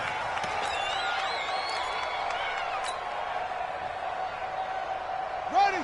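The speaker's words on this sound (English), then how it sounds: "The crowd may be losing just a little bit of the edge after back-to-back punts." Stadium crowd noise from an American football video game, a steady distant roar and murmur running throughout with a few faint whistles and cheers rising above it, plus a brief louder swell near the end.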